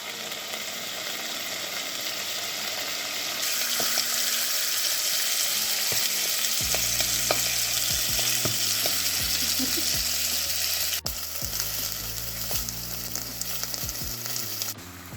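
Judas ear mushrooms frying in a pan, a continuous close sizzle that grows denser and louder midway, with occasional light knocks and scrapes of a utensil.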